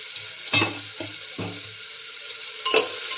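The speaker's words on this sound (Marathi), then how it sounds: "आता बटरमध्ये सर्व आधी कांदा आणि टोमॅटो परतून घेऊया." Onion and tomato sauté in butter with cloves, cinnamon, black pepper and bay leaf for a winter carrot soup. A steady, soft sizzle runs throughout, with a few close spoon stirs and scrapes against the pan.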